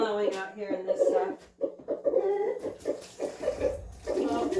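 Chickens cluck and murmur in a snowy yard, short repeated calls close by, with a person talking over them.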